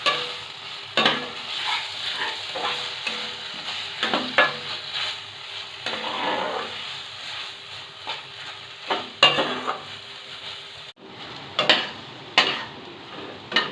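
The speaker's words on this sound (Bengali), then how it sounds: "দিয়ে ভালোভাবে নেড়ে চেড়ে এটাকে একদম শুকিয়ে নেব" Long bean mash is stirred in a frying pan until dry, with a low sizzle under repeated scraping and stirring strokes of a spatula against the pan, close and without speech.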